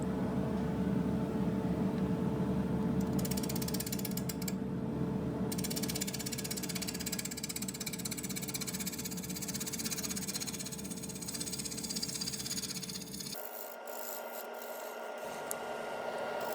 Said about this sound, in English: So here I have the blank reversed in the 4-jaw chuck and starting the hollowing process.